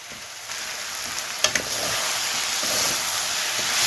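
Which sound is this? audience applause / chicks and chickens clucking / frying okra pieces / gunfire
frying okra pieces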